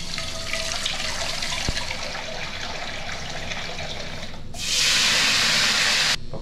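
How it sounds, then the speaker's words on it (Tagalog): Water is poured into a cooking pot for boiling, a bright, steady gushing hiss that starts abruptly near the end and runs for about a second and a half over quiet kitchen background. "Papakulo lang po tayo ng tubig."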